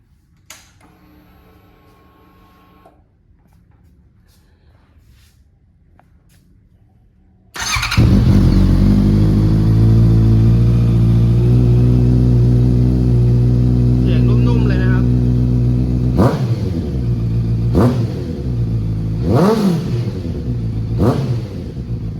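A 2018 Honda CB650F motorcycle with a Yoshimura exhaust fires up after a quiet stretch and settles into a loud, close idle, punctuated by several sharp throttle blips that rise and fall.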